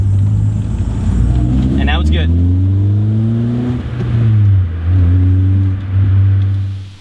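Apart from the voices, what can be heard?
car engine starting after rolling start in second gear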